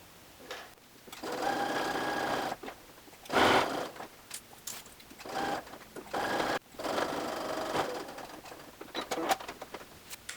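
Sewing machine topstitching a neckline facing on a garment, with close, steady mechanical whirring in long runs broken by short pauses, and no speech.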